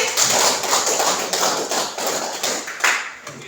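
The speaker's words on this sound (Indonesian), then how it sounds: "Kita beri aplaus ya untuk Vivi." A classroom of students applauds together, a dense burst of many hands clapping close by that holds steady and then tapers off near the end.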